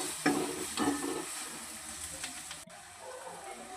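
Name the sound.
spices such as turmeric, red chili, cumin and coriander powder sizzling in oil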